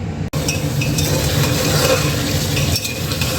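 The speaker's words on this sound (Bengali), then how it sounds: "দেখো বন্ধুরা, মাংসটা আমি এখন কষাচ্ছি।" Mutton being stir-fried for kosha in a pan sizzles steadily and close, with a spatula scraping and clinking against the metal throughout.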